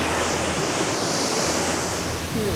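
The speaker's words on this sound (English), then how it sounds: "we got up a little bit closer to these beautiful waterfalls. Lealt Falls." Lealt Falls on the Isle of Skye, a waterfall pouring through a tree-lined gorge, gives a constant dense roar of rushing water with some wind buffeting, steady and full throughout with no voices.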